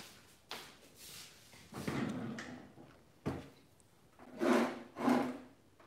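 A drawer opens in a home kitchen on a rainy day, giving a few quiet, close wooden rubs, scrapes and soft thumps spread over several seconds.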